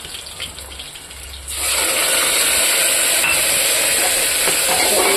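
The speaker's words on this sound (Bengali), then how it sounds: "আমি এখানে মশলাটা করে রেখেছিলাম, এটা দিয়ে দেবো।" Prepared wet masala paste tips into a pan of browned fried onions, and the quiet sizzle jumps to a loud, sustained, hissing fry that holds steady to the end; no talking.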